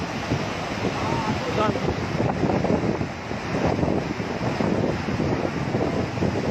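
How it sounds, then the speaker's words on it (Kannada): Water gushing forcefully through an opened dam spillway gate makes a constant, loud rushing roar, with a gusty, buffeting texture throughout. "ಹತ್ರ ಹೋದ್ರೆ ಭಯಂಕರವಾಗಿರುತ್ತೆ ನೀರು ಫೋರ್ಸ್. ಅದು ನೋಡಿ ಉಕ್ಕುತ್ತಿರೋದು."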